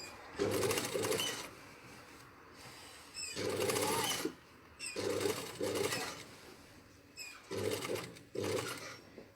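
Sewing machine stitching back over a seam on a tailored sleeve, in four separate loud bursts of fast whirring with short quiet gaps between them, close by.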